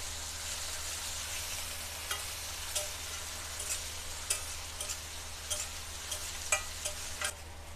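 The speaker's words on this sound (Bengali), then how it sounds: "এগুলো দিয়ে আবার নাড়াচাড়া করতে হবে" Ginger-garlic paste being stirred in a pan, with a low steady sizzle and repeated light spoon scrapes and ticks, faint and close, with nobody talking.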